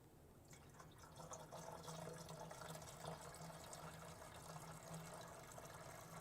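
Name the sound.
pouring washer fluid into car reservoir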